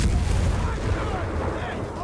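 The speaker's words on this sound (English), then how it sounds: "It's the late fuse barrage." Rapid artillery barrage from late fuse shells in Company of Heroes 3, with dense rolling booms and crackling blasts piling up continuously at full loudness, a commentator's voice running faintly beneath.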